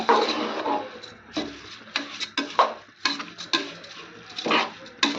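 Rice frying with tomato, chilli and salt is stirred in a pan in South Kanara style, with a spoon scraping and tapping the metal in an uneven series of close, distinct strokes.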